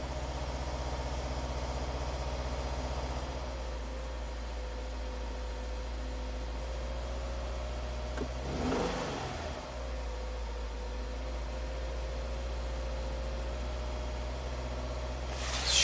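A 2020 Subaru WRX turbo engine idles roughly with cylinder 3 misfiring, a steady low drone with uneven pulsing and a brief dip and stumble midway before settling again.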